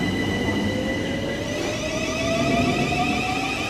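A new Thameslink train runs past at a steady, continuous rumble with a rising electric whine, fairly close and moderately loud, with no voices.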